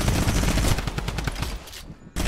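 Rapid automatic gunfire from a video game crackles in a dense burst, then thins out and drops to near silence before a last abrupt shot at the end.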